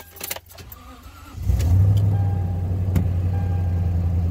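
A 2007 Toyota Tundra pickup truck is started with a key: small jingling clicks, then the engine catches at about one and a half seconds and settles into a loud, steady, close idle rumble.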